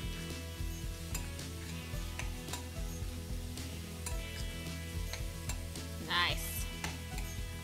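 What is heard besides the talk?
mixing pork, vegetables and liquid mixture together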